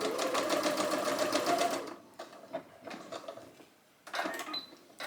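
A sewing machine stitches over the layered placket of a dress, running in a fast steady chatter for about two seconds, then in short stop-start bursts, close and clear.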